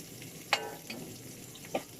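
Chopped onion dropped into a hot pan for a Filipino ginataang gulay with string beans and squash, giving a soft sizzle with a few sharp crackles and stirring scrapes, close and moderately quiet.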